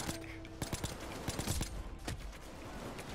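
Gunfire in the heist video game Payday 2: rapid bursts of automatic shots crackle in a dense mix, fairly faint and steady throughout.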